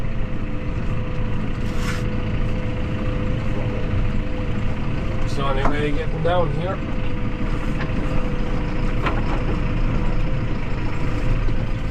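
A Massey Ferguson 5S tractor drives through a high river while mowing and hauling bales, its engine a steady, loud low rumble up close, with brief splashing and creaking over it and someone speaking.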